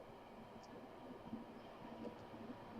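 A train rumbling past at a distance, a low, steady rolling drone with faint clicks and squeals, quiet and continuous with no voices.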